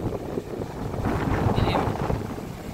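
Strong wind gusts roar steadily across the microphone outdoors on a dark, stormy day, a broad rushing noise that builds slightly in the middle, with faint voice-like sounds mixed into the blustery rumble.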